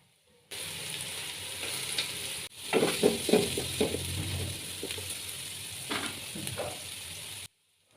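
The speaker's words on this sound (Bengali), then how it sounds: "30 সেকেন্ডের মতো বরবটি ফ্রাই করে নিব। তারপর দিয়ে দিব গাজর 1 কাপ।" Green beans and carrots for fried rice are stir-fried in hot oil, giving a bright continuous sizzle with several scraping stirs of a spatula close by, then the sound cuts off.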